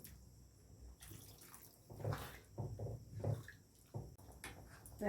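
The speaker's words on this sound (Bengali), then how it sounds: "এরপর আমি জল দিয়ে দেবো আর একটু জল দিয়ে দেবো" Water pours into a pot of peas and potatoes for chicken ghugni, a gurgling, splashing stream that comes in a few uneven bursts at close range and fairly quietly, with no voices.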